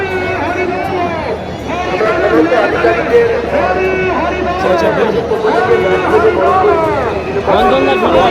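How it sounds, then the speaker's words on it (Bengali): Dense chatter of a large crowd, many overlapping voices forming a loud, continuous babble close by. "প্রায় এক থেকে দেড় লাখ মানুষের ভিড় হয়েছে"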